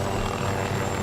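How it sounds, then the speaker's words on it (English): A small helicopter in the video game Arma 3 flies with a steady, loud rotor and engine drone that fills the moment without any talk. "This flies more like a little helicopter, I suppose."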